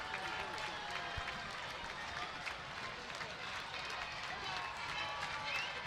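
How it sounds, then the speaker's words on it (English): Big stadium crowd at a college soccer championship cheering an Ohio State goal, a faint, distant, continuous roar with scattered clapping and no let-up. "Crowd celebrating."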